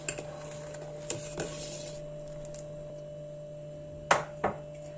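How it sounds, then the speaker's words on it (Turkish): A spoon scrapes and knocks against a pot of vegetable soup in a few sparse, sharp clinks over a steady low hum, with two louder knocks close together near the end. "Tekrar şöyle bir tur karıştırıyorum."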